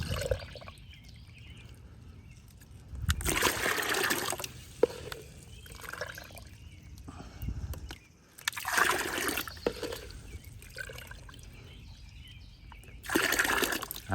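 Water poured from a container into potting mix in a pot while transplanting pepper plants, heard as three separate bursts of splashing and trickling with quieter outdoor background in between.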